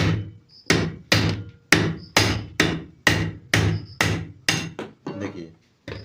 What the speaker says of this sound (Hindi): ऊपर से हथौड़ी मारेंगे यहाँ पे तो ये आपका निकल जाएगा